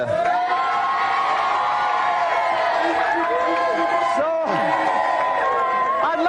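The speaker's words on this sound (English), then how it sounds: "Have another round of applause for today's special guest" A television game-show studio audience claps and cheers for a celebrity guest, with whoops and shouts over sustained applause and voices ringing through the crowd noise throughout.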